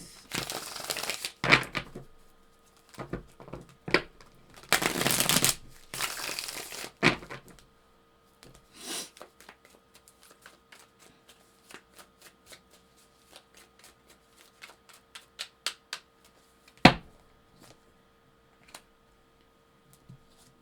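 Tarot cards being shuffled by hand, with bursts of riffling and crisp papery flicks close to the mic, then lighter scattered card snaps and taps as they are laid out, and no talking.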